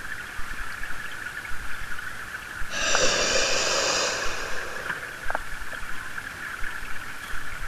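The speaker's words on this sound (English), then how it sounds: "breathing out through your mouth as though you was blowing a candle out" A slow breath blown out through pursed lips, like blowing out a candle, during a guided deep-breathing meditation: one soft, airy exhale lasting about two seconds, close and alone over a quiet hum.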